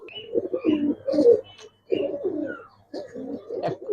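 A pair of deep red high-flying pigeons coo in repeated throaty bursts nearby, with short pauses between phrases and no voices.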